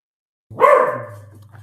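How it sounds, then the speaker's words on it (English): Several dogs bark in a short, loud burst near a billiards table, with the first yelps sharp and overlapping before the sound trails off into a lingering low whine. "Got some very vicious dogs."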